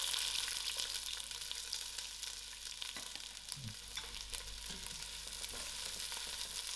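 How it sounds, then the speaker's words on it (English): Onions crackle and sizzle as they fry in hot olive oil in a saucepan for a spiced chickpea soup, a close, continuous hiss with occasional stirring scrapes, no voices. "My oil is nice and heated up, so I'm going to throw in my onions."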